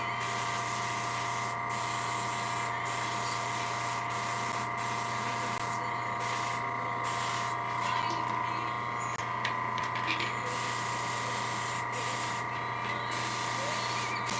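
An airbrush sprays paint onto a plastic model sprue for a Sherman tank kit, making a continuous soft hiss with a steady hum under it and brief breaks while the part is turned.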